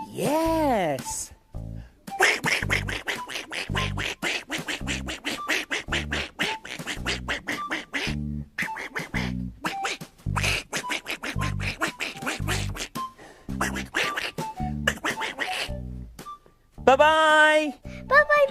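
A duck on a farm-animal children's show quacks in repeated bursts over steady, rhythmic, bouncy music, with one clear quack near the end.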